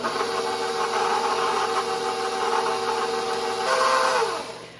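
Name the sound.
stand mixer with paddle mixing bread dough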